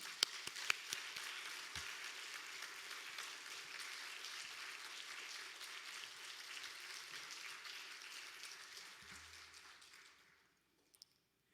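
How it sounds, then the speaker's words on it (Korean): A church congregation at a Wednesday evening service applauds steadily to welcome a missionary to the pulpit, a dense wash of many hands clapping at a distance that holds evenly for about ten seconds before fading out. "우리 나오실 때 힘찬 박수로 모시도록 하겠습니다."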